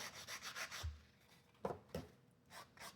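A sander works on a wire bar necklace in quick rubbing strokes, fairly faint, with a few short pauses and sharper scrapes between bursts.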